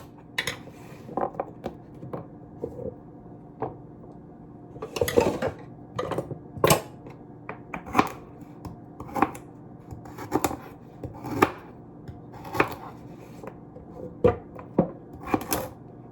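Peeled carrots chopped into smaller pieces, a run of close, crisp knife strikes on a board coming in irregular clusters of taps and thuds, with no talk.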